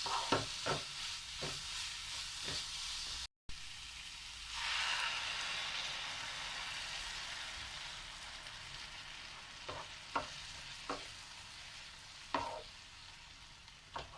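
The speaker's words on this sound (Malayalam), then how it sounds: "പാല് ചേർത്തു മിക്സ് ചെയ്തെടുക്കാം" Carrot halwa sizzles in a pan as milk is added and stirred in. A steady hiss of frying runs under intermittent spoon scrapes and taps, with a brief gap near the start and a louder bubbling swell after the milk goes in.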